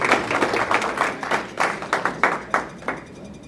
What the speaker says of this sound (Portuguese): gostaríamos de uma calorosa salva de palmas para as meninas e também para o Pablo Henrique